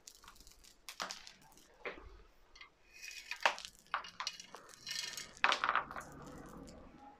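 A handful of damp bonsai substrate gravel is scooped and handled, giving close, irregular crunching and gritty clinks in scattered bursts with quiet gaps between.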